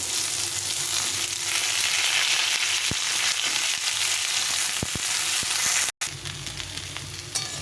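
Vegetables such as broad beans, eggplant, radish and tomato hitting hot spiced oil in a pan, a loud, steady sizzle and frying hiss with a few sharp clicks of stirring, close up and with no talk.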